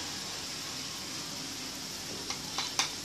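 Rice fries in a pan with ginger paste and cardamom, giving a faint steady sizzle, with a few short scraping stir sounds near the end and no talking.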